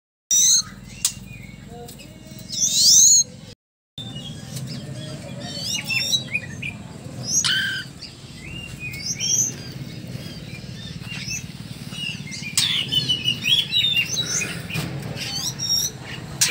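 Varied, melodious oriental magpie robin song with quick whistled phrases and chirps over a steady low background hum, fairly close and continuous.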